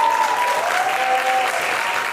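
A studio audience on a Greek television talk show applauds a guest singer. Strong, continuous clapping holds steady for a couple of seconds, with faint musical tones running underneath.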